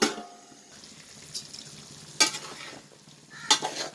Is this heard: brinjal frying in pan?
yes